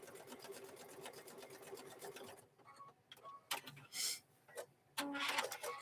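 A sewing machine runs a steady rapid stitching rhythm across the raw seam of a microwave bowl koozie, then stops, leaving scattered clicks, fabric handling and bursts of rustle close by.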